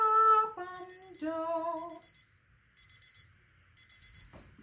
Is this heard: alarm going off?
yes